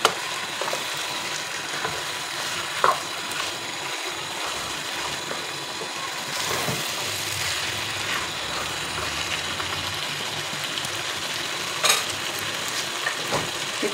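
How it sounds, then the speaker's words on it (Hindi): Chicken frying with masala on a medium flame, a steady dense sizzle running throughout with occasional sharper crackles and faint stirring clinks, close and moderately loud with no talking. "इसे हम फ्राई करेंगे मीडियम फ्लेम पे। इसी मसाले के साथ फ्राई कर लेना है।"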